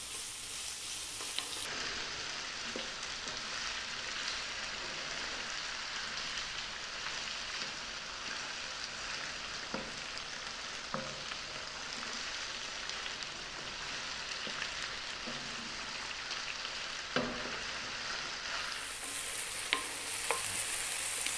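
Small diced potatoes fry over high heat in a pan, giving a steady, dense sizzle with occasional scraping as they are stirred, close and continuous throughout.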